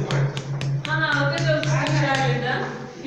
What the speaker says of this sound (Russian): Если по этому столбу постучать, то раздается звук, похожий на звук барабана.